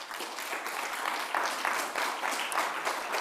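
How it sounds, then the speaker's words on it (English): A conference audience claps for three speakers at a session's close, a steady, moderately distant patter of many hands sustained throughout. "we could warmly applaud our 3 speakers"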